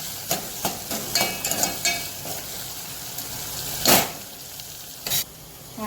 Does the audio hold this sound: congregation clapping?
no